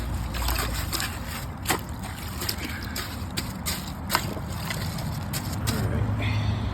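A 2018 Mansfield Summit dual flush toilet flushes with rushing, gurgling water and a few sharp knocks, running steadily close up for several seconds.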